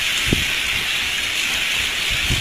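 Wind-driven lake water shoves ice up along the shore, a steady hissing wash with a few low, soft knocks and thuds, close and continuous with no talk.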